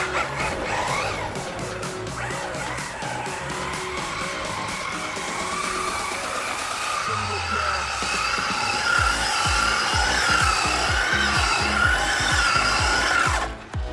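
An HPI Maverick Quantum Flux RX radio-controlled car's tires skid and squeal across the ground, a long continuous screech with a rising and falling motor whine, loud and close with no talking.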